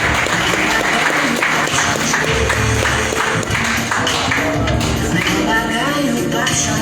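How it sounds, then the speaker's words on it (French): Audience clapping for an honoree at a ceremony for young role models, steady applause mixed with background music and a low rumble, loud and continuous throughout. "On applaudit Nance."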